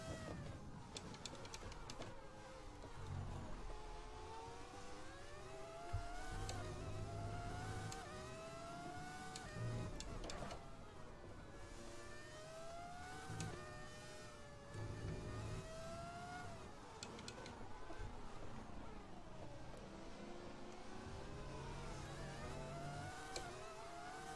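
A Formula 1 car engine in the F1 2020 racing game, a 1998-season car at Bahrain, screams steadily and close, its pitch climbing and dropping repeatedly with acceleration and gear changes, with no talk.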